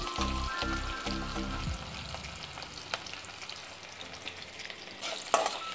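Onions fry in oil left over from frying fish, with a lively crackling sizzle and stirring scrapes. The frying is loudest at first, then settles to a softer, steady crackle.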